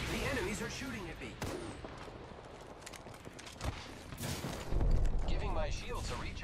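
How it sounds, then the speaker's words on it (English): Enemy gunfire in Apex Legends: repeated sharp shots and bursts crack out, some close and loud, amid game noise, with voices talking over the fighting. "The enemies are shooting at me."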